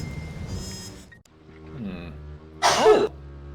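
Sneeze in the 1999 Discworld Noir game: a single loud, bursting sneeze near the end, preceded by quieter breathy, voiced sounds and a background hum.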